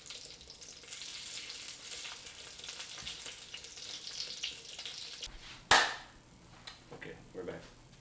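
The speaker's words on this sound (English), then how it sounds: "So we're gonna get these fried up and then we will show you the finished product." Arancini rice balls fry in hot oil with a steady, fairly quiet sizzle, then a sharp loud clatter near the end followed by softer handling noises.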